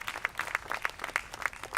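Audience applause at an outdoor park concert: a brief burst of many hands clapping in a quick, uneven patter, fairly close and steady throughout.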